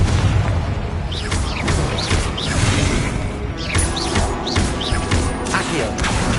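In Hogwarts Legacy, a Confringo blasting spell sets off booming explosions and crashes amid dense, loud game effects and whooshes, layered continuously throughout.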